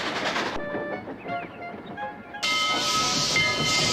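A steam locomotive pulling heavy coal cars hissing and chugging past, with steady broadband steam noise and a brief whistle-like tone, growing louder toward the end.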